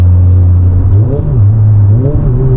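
A 600bhp Volkswagen Golf R pulls hard under full throttle, its engine note climbing steadily and loud from inside the car, with a brief dip and rise as it shifts and keeps accelerating.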